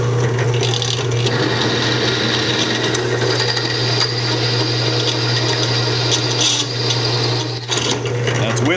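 A drill bit bores through steel at a pilot hole, giving a loud, steady whirring grind with a constant low motor hum that runs unbroken for the whole stretch.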